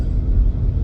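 A vintage Ferrari V8 running on all eight cylinders gives a loud, deep, close rumble, steady throughout the brief moment with no talking.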